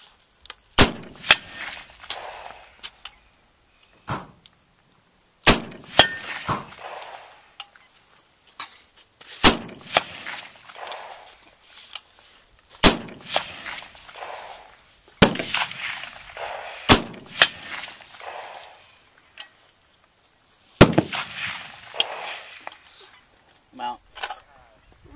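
Rifle shots ring out at a long-range precision steel-target course, with sharp, loud cracks every few seconds, each followed by a trailing echo. A steady high insect drone runs underneath throughout.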